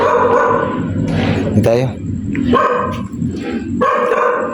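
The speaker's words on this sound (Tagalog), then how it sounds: "Diyan, may aso dyan." Dog at night in a cemetery barks repeatedly in sharp, close bursts, several loud barks spaced across the stretch, mixed with a person speaking.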